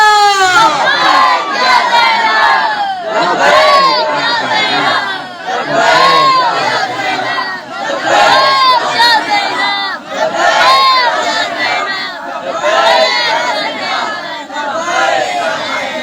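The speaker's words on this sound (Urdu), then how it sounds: "باواد بلند بل کر لبیک یا زینب" A large crowd chants "Labbaik ya Zainab" loudly in unison at a religious gathering, voices rising and falling in repeated rhythmic waves, dense and energetic throughout.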